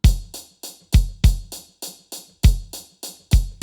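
A kick drum sample hit repeatedly in a steady pattern, each thump identical, close and punchy with quick decay and no voices.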